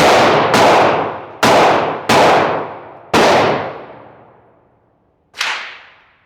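Glock 25 Gen 3 pistol firing .380 rounds at an outdoor range: five sharp, loud shots, one fired at a short pause and then four in a loose rhythm, each with a long ringing echo, then a sixth shot after a gap.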